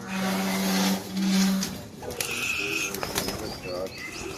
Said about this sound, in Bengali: আমাদের 23টা পায়রা বেরোচ্ছে।